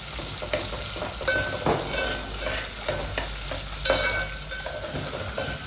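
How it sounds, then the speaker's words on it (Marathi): Tomatoes and curry leaves fry in hot oil in a pan for a tuna curry with black spices, a steady sizzle broken by repeated scraping stir strokes, close and fairly loud, with no voices. "आता आपण टोमॅटो आणि कढीपत्ता टाकून परतून घेऊया."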